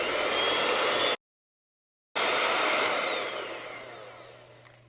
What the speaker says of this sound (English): using a hand mixer